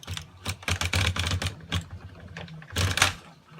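An LK150 knitting machine carriage is pushed across a row with its russell lever set to 2, giving a close, quick run of clattering, rattling strokes in short bursts.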